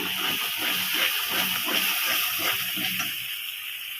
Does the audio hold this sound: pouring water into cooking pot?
yes